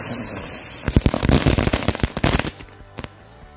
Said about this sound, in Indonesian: selanjutnya kita nyalain mercon bunga teratai